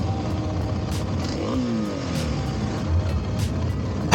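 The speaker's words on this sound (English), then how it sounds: "Just revving it a bit now," A 2022 Kawasaki KLX300SM motorcycle engine idles with a steady rumble, briefly revving up and down once near the middle; continuous and fairly close.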